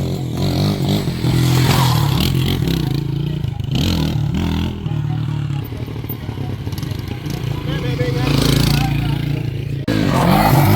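Motorcycle revving and roaring through a wheelie, engine surging and dropping in bursts with some clatter and scraping, close and loud, with people shouting over it.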